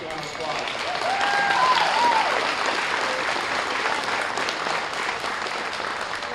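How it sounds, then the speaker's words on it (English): Spectators at the 2023 NWSF swine show applaud the class winner in a show ring, a sustained crowd clapping at moderate level that swells slightly then holds steady, with a faint voice underneath. "Let's give him a nice round of applause."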